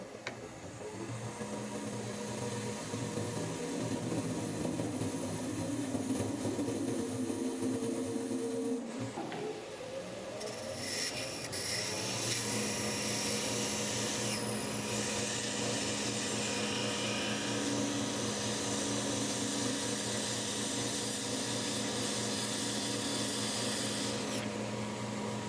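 Wood lathe parting off a turned piece of resin and scrap wood, a steady spinning hum with a harsh scraping cut that shifts in tone partway through and then carries on.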